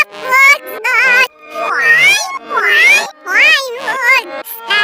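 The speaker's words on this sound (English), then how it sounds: "Cats go meow, meow, meow." Cat meowing repeatedly in a series of close, loud, rising and falling calls with short gaps between them.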